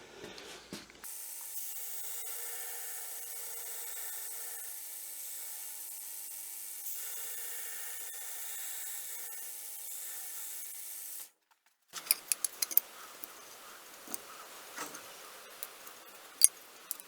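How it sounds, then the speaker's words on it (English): Hand sanding of the front ends of wooden knife handle scales on a sheepsfoot everyday-carry knife: a steady, continuous rasping rub held for about ten seconds, then a pause followed by scattered light taps and scrapes. "we're ready to hand sand the front ends of this and then glue the knife up"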